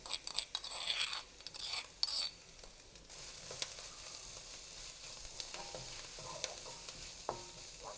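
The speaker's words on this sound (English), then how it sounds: "So I'm just going to add my garlic, crushed up garlic," Crushed garlic hits a hot pan with browning food and sizzles steadily, with a few scraping stirs and clatters near the start before the frying settles into a continuous crackle.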